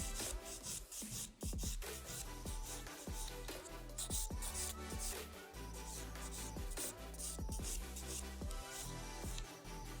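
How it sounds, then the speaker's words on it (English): A nail file rasps across an acrylic nail during a long tapered square set, in steady, close, repeated strokes against a faint tonal background. "so when I file I don't get the skin"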